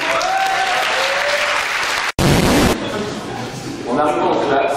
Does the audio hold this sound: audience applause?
yes